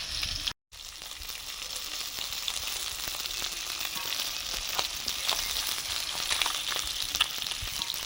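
Snakehead fish fry in oil outdoors with a steady, even sizzle and scattered small pops. The sound runs through the clip apart from a brief dropout near the start.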